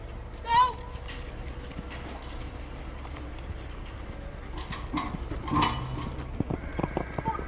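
Horse hooves at a campdraft show in a yard, a steady clip-clop close by with occasional louder thuds, under an announcer talking and birds calling in the background.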